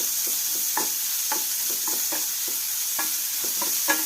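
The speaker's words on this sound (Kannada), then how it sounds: "ಸ್ವಲ್ಪ ಕಂದು ಬಣ್ಣ ಬರುವಂಗೆ, ನೀರೆಲ್ಲ ಹೋಗುವಂಗೆ ಫ್ರೈ ಮಾಡಬೇಕು." Ingredients for a home cough and cold remedy fry in a pan until browned and dry, giving a steady soft sizzle broken by light scraping stir strokes, close by and with no talking.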